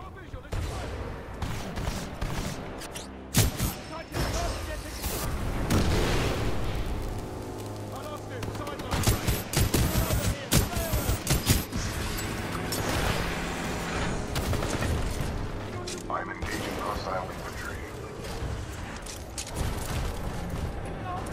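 Gunfire in the video game Titanfall 2 as rapid bursts of shots and explosions pile up in a dense, loud battle mix, with players talking over it.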